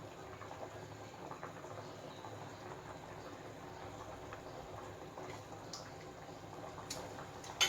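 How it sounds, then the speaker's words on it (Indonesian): Fish in yellow turmeric broth (ikan kuah kuning) boiling in a pot, a steady low bubbling simmer that stays even and unbroken throughout, with a few faint clinks near the end. "Sudah mendidih"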